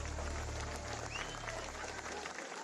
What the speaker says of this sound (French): vous entendez le public applaudir